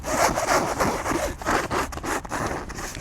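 Close, steady rustling and rubbing of a stiff Oxford fabric puppy bed being handled, with scratchy swishes in an uneven rhythm and no talking.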